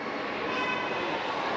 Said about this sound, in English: There goes a sneak peek to the train I think that we're riding